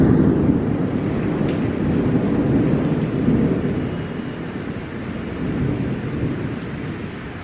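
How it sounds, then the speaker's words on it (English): Heavy rain pours steadily in Harlem while deep thunder rumbles and rolls through, loud and close, with no voices. "Like, it's raining so hard. It's thundering."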